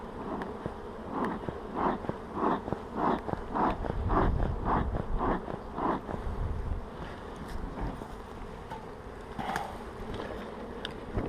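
Honeybees buzzing around a hive during a spring inspection with a very strong colony, a dense continuous hum close by with rhythmic pulsing swells and occasional handling noises.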